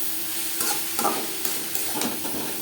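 Turmeric powder is stirred through grated coconut and yardlong beans frying in a pan, a soft, continuous sizzle broken by a few light spatula scrapes, close by and quiet.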